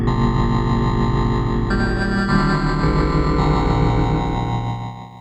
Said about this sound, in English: now you get the distortion kicking in, or the overdrive kicking in